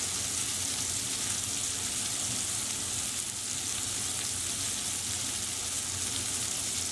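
Chapli kebabs fry in a pan, a soft continuous hiss and crackle of oil, steady and fairly quiet with no speech.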